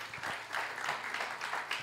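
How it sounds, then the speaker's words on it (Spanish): Church congregation applauding, a moderate crowd of clapping hands with a slightly uneven, pulsing texture over a brief span. "¿Te animás a dar un aplauso al Señor?"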